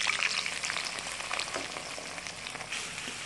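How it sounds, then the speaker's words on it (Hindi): Three onions frying in about a cup of hot oil for qeema karela, a dense, continuous crackling sizzle heard up close, with no voices over it. "तो प्याज को हम ब्राउन कर लेते हैं।"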